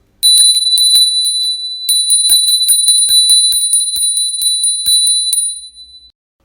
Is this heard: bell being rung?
yes